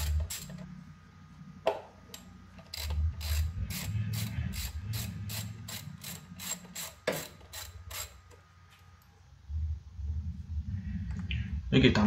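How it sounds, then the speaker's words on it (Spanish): Ratchet turning out the screws on the ignition coils of a 2002 Honda Civic, bursts of rapid metallic clicking repeated in steady runs, close and clear, with someone talking at times underneath. "Continuamos quitando los tornillos que están en las bobinas."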